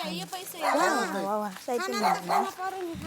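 A dog barks and whimpers in short, uneven bursts at night on a deserted, unpaved village road. The calls come close and fairly loud, broken by brief pauses, with no voices over them.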